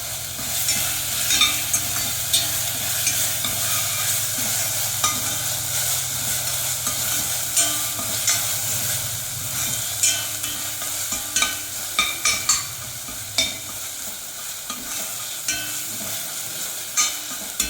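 Masala sautéing in a pan for Madurai chicken chops, curry leaves added, a steady close sizzle with scraping stirs that grow into sharper, louder knocks toward the end.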